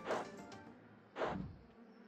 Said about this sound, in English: There are bees all around there.